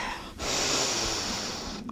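A long, audible breath drawn in during a morning yoga sun salutation flow, a close, airy inhale sustained for over a second before easing off.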